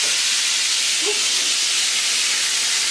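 Chicken pieces frying in very hot oil in a pan, a loud continuous sizzle and hiss throughout with a faint soft knock as the pieces are turned with a spatula.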